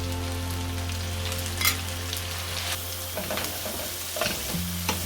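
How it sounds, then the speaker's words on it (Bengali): Ginger and garlic sizzle steadily in hot oil, with a few brief scrapes and clinks of stirring near the pan. "আদা রসুনটা তেলে ভাজা হয়ে গেছে।"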